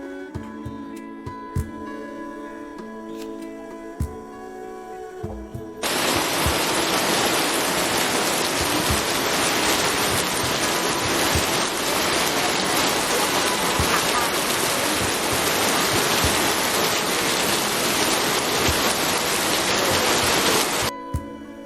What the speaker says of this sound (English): Pouring, heavy rain.